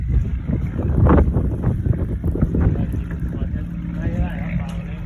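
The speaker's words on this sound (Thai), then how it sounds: "ลมทั้งวันลมหนาวลมเย็นทั้งวัน" Strong cold wind buffets the microphone on a fishing raft at sea, a steady low roar with gusts, while people talk over it and faint water sounds run beneath.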